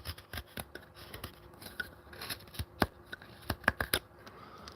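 Knife or blade peeling strips from soft, resinous pine wood outdoors in a bushcraft setting, a run of close, dry scraping and rasping strokes in irregular bursts, with no talk.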